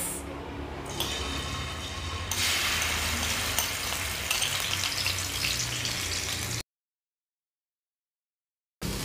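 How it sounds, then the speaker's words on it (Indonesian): Loud, steady sizzling of blended spice paste frying in a hot wok, with a burst of stronger crackle early on, then cutting off abruptly. "Lalu bumbu yang di blender tadi masukkan ke dalam wajan, ditumis."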